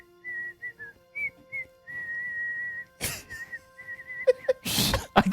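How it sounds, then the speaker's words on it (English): Someone whistles a wavering tune in short phrases, then bursts of breathy blowing and a loud rush of air break in near the end. "I'm trying to whistle"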